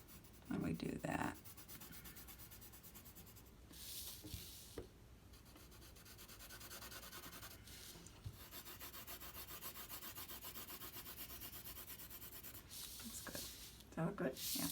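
Graphite pencil scratching and rubbing across a sheet of paper laid underneath, steady continuous friction for most of the span with a few louder bursts, close up and fairly quiet.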